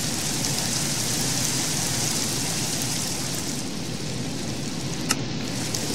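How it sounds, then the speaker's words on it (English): Steady rain falling in the game Enigmatica 2, a dense continuous hiss of drops on surfaces with a brief sharp tick near the end and no voices. "This is actually really calming the rain."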